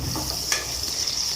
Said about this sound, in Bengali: পেঁয়াজটা আমি হালকা একটু লালচে করে ভেজে নিব